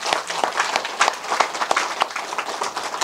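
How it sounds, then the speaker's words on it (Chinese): Audience clapping at a lecture on classical Chinese cultural education, dense and steady applause with many hands, fairly close and filling the whole stretch. "大家为我们黄埔十七期学员鼓掌"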